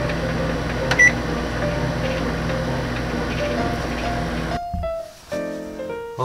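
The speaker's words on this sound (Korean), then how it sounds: "그래서 우엉을 전자레인지에 돌리겠습니다." A microwave oven cooking burdock root hums steadily for several seconds, then stops abruptly and a few beeps chirp in the quieter room tone.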